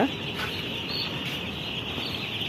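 Chicks on a poultry farm cluck and peep in a continuous, fairly faint chorus that fills the whole stretch evenly, with no talking.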